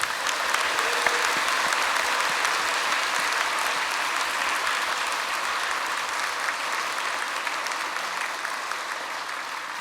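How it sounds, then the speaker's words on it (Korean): A church congregation at a Seoul church service applauds a deacon being praised. The clapping is a sustained, dense crowd sound, moderately loud and steady for about ten seconds, easing slightly toward the end with no speech over it. "박수 좀 해주세요."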